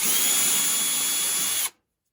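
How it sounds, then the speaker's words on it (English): A high-pitched power drill whines steadily and close for under two seconds while drilling a pilot hole in wood, then stops abruptly into silence. "These are really pilot holes, so you can drill as far as you need to."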